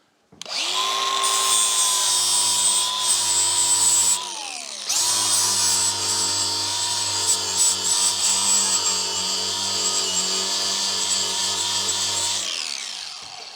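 Power tool driving screws to fasten a hatch on the front deck of a 1983 PolarKraft boat, a loud, close whirring drill run with a brief stop and restart before winding down.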